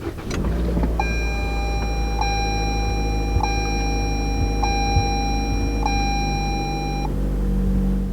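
A 2020 Toyota C-HR starts with a push of the button, the engine turning over and settling into a steady low idle, while a chime repeats at a slow, even pace from inside the cabin.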